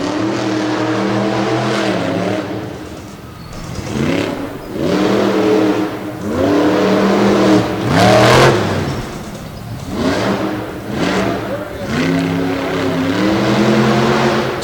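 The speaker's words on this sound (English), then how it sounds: "Devin Jones in Barbarian was the first competitor up, and he laid down this blistering pass" Monster truck Barbarian roars through a fast qualifying pass on a dirt track in Madison, Wisconsin, its engine revving in repeated surging bursts as it climbs and drops over jumps, loud and close.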